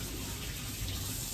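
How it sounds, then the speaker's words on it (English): Tap water runs steadily into a kitchen sink while hands are rinsed under it during bread making, a continuous close splashing hiss with no talking. "Let's quickly wash off my hands."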